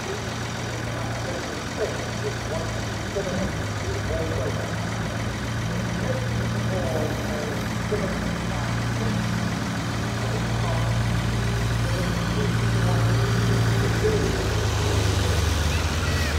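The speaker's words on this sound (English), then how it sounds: "Got a tractor engine rumbling next to me, which is that noise." A low tractor engine rumbles steadily throughout, idling close by at a motor racing stadium, with faint background chatter and crowd noise in the distance.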